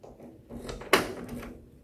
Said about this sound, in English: And now I'll lock it with the key.